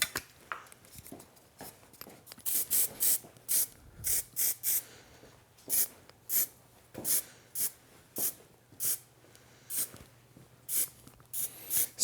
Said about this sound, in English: Let's add a little bit of hairspray.